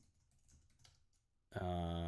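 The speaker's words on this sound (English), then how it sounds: "I'm just typing this out." Quiet, scattered key presses on a computer keyboard, ending abruptly as a loud tonal sound cuts in.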